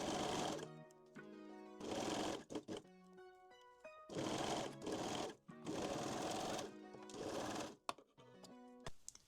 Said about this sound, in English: And sew the crotch seam.